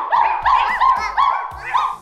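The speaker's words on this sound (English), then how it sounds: "It's not a wolf. It's a dog." A dog barks five times in a steady rhythm, each bark sharp, loud and close, with short pauses between them and no other sound.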